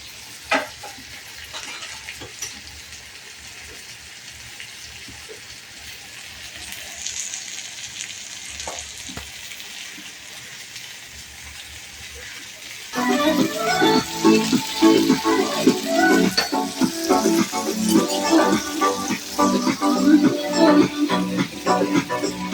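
A dried shrimp masala fries in a pan, starting with quiet background clatter before a loud, crackling sizzle breaks out about halfway through and keeps spitting and popping steadily to the end.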